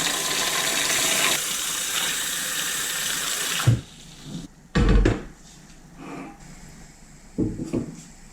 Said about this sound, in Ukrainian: Заливаю холодною водою поплечики.